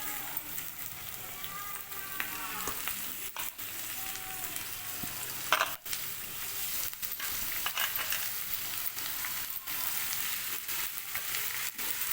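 Washed boneless chicken frying with sautéed onions for a chicken gravy, a steady close sizzle with occasional stirring clinks and scrapes, and no talk over it.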